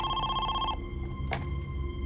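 A telephone bell rings in a clear repeating burst that stops partway through, followed by a brief click over steady background hum.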